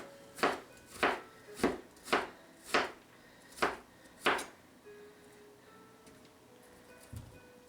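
Seven sharp knife chops on a cutting board, evenly spaced about half a second apart, as endive and kohlrabi are cut for a salad; close and distinct, then a quieter pause with a single soft knock near the end.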